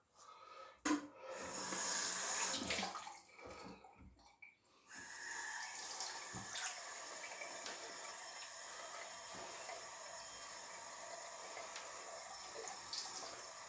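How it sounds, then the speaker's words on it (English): A tap runs as someone rinses off after a shave, a steady nearby splash of water with a few louder gushes and breaths at the start, no talk. "literally just rinse it off."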